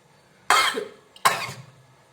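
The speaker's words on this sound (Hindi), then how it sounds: "खांसी छींक दोनों आने लगा।" Two sharp bursts, a cough or sneeze followed by another about a second later, loud and close with no talking, brought on by chilli powder.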